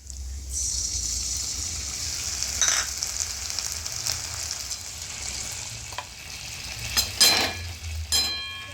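Ginger-garlic paste fries with onions and chillies in a wok for a bread chop potato filling, a steady nearby sizzle broken by stirring scrapes and a few metallic clinks.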